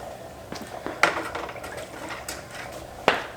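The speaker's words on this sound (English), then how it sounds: "I'll find something to stir it up with, and we'll test the pH levels" A utensil stirs a mixture in a container, giving scraping and clinking sounds with two sharper knocks against the side, close by and without talk.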